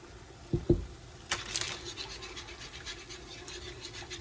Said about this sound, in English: Stir the noodles.